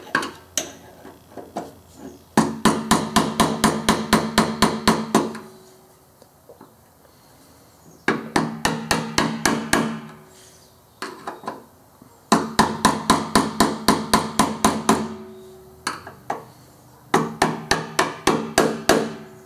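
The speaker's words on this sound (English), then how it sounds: "That's the noise of the tabs hitting the stop tabs." Bursts of rapid metallic tapping as a Chevy/GMC fuel pump sending unit's lock ring tabs hit the stop tabs, each run a quick series of sharp clicks, repeating with short pauses between, close and fairly loud.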